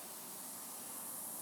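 Water sprays from a small leak in an expandable pocket hose, a soft, steady hiss held faintly for a brief moment.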